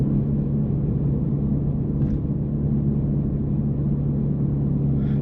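Steady low road noise and tire rumble inside a moving Honda Civic Type R FL5, a constant hum with no talking and a couple of faint tiny ticks.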